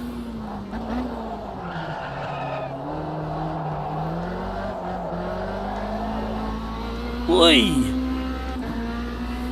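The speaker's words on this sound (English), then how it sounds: "Bobbling sideways across" A race car slides sideways across tarmac in a racing video game, its engine droning steadily with a rising tire screech near the end while a voice talks over it.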